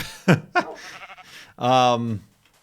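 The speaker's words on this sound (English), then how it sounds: "I thought that was a witch, but witches aren't in this version of the game. And it's a sheep." A Minecraft sheep bleats in-game, with short choppy sounds first and then one longer wavering bleat, clear and close against quiet.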